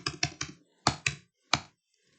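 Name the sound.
typing on a computer keyboard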